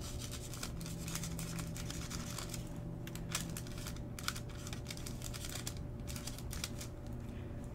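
A pen scratches out names on a sheet of paper, making quiet, close, irregular ticking and scraping strokes over a faint background hum.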